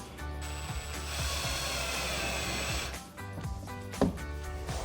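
Ratchet clicking in steady bursts while tightening fasteners to install a SpeedForm chin spoiler lip on a 2015-2017 Ford Mustang, close and moderately loud with a sharper clank near the end.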